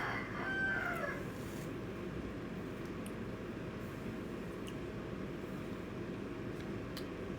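A neighbour's rooster crows once, fairly near, at the start, followed by a low steady background rumble.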